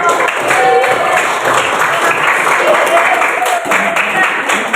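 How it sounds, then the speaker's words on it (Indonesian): Audience applause at a coding and artificial intelligence training session, a dense, steady wash of clapping that holds for about five seconds without a break. "kita beri aplaus dong"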